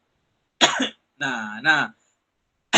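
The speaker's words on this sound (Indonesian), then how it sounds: "sorry ya batuk" A person coughs twice in quick succession, close and loud, a short harsh burst followed by a longer throat-clearing cough, with brief talk right after.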